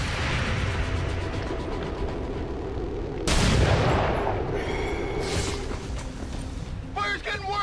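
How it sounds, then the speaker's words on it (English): Gunfire in the XCOM 2 video game, with bursts of shots and a loud boom midway, mechanical clatter, and a voice talking over the action. "Incoming fire!"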